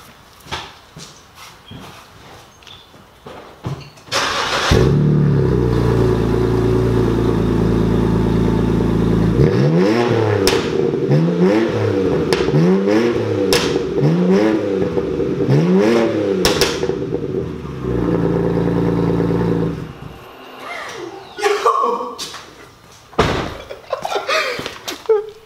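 A BMW E90 328i with a cat delete and no resonator or muffler starts up with a loud blare, idles roughly and is revved several times in a row, then shuts off, leaving quieter background sounds.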